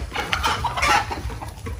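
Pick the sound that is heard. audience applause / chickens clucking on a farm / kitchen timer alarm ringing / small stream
chickens clucking on a farm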